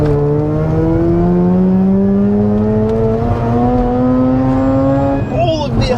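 A Mazda RX8 rotary engine revs steadily upward as it drives, its smooth rising whine loud and close, climbing for several seconds before the pitch breaks off at the end.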